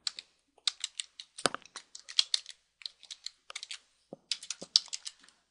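A title is typed on a computer keyboard: quick bursts of crisp, close key clicks with short pauses between words, no talking.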